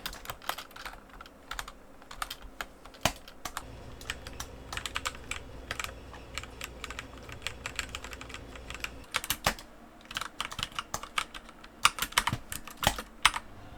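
EOSO and Logitech keyboards clicking during gaming: rapid, irregular bursts of close, crisp keystrokes with occasional denser flurries, heard alone.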